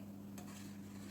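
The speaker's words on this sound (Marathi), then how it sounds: "हलवून घेऊया एकदा." Tamarind curry being stirred in a pot, a soft scraping swirl over a steady low simmering hum, with one brief clink partway through, quiet and close.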